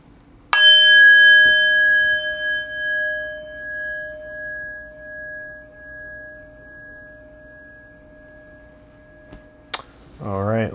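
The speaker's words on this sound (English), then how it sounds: "in just a moment I will ring the bell" A meditation bell is struck once during a live meditation session, a bright metallic ring with a long sustained tone slowly fading over several seconds, followed by a brief tap and a short burst of speech at the end.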